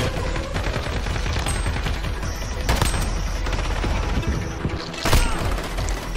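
Dense video game gunfire in Call of Duty: Modern Warfare, rapid automatic bursts and sharp shots running throughout with mechanical clatter and two louder blasts, loud and close, no talking.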